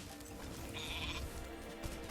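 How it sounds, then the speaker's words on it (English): A sheep in the video game Spyro Reignited Trilogy bleats once in a short, nasal call over a faint background of game music and ambience. "So yeah, Toasty is actually a sheep wearing that outfit"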